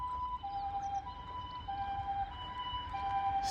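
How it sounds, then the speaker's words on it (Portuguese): An ambulance siren passes outside, its wailing two-tone pitch cycling steadily at moderate distance over a low rumble of background noise, with no talking. "de ambulância ali, deve ter acontecido alguma coisa muito má em algum lugar"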